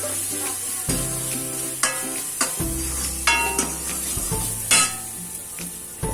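Samosa filling masala roasting in a pan, Punjabi style, sizzles steadily at close range while a utensil stirs and scrapes, making sharp clacks against the pan at irregular intervals.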